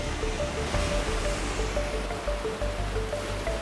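Sea waves rolling onto Gadani beach in Balochistan, a dense continuous wash of surf heard close and steady, with faint tonal hums running underneath and no voices.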